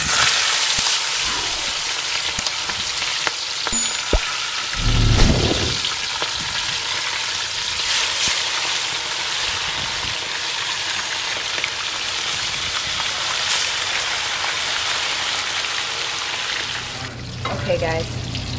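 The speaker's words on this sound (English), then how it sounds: "So you put the fish in. they're gonna just start sizzling instantly, all right?" Fish fries in hot oil in a Dutch pot, a continuous loud sizzle and crackle that flares sharply when more pieces go in, with brief clattering of utensils.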